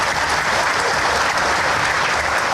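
Dense, sustained applause from a large crowd at an Indonesian political rally with former red beret soldiers backing Anies, steady and loud throughout with no pauses.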